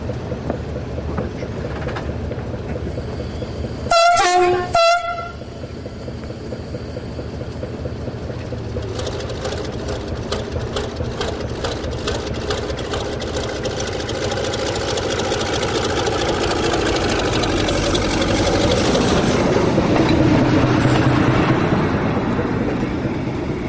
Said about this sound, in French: Ce 72 500 qui arrive de Marseille nous libère la voie.